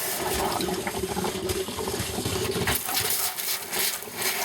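Water runs steadily from the sink faucet in a boat's head during winterizing of its fresh water system, a continuous hissing flow with faint clunks and rattles.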